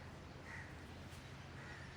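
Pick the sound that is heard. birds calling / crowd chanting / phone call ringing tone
birds calling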